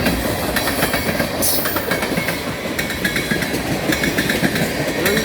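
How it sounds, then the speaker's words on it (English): A freight train of ethanol tank cars led by an ex-CN C44-9W diesel locomotive rolls past close by with a loud, steady rumble and rhythmic clickety-clack of wheels over rail joints. "Another EXCN C44-9 leading ethanol train."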